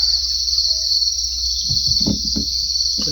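Crickets in a breeding cage fitted with egg trays for hiding, a steady high continuous chirping drone throughout, with some soft low rustling or knocking toward the end.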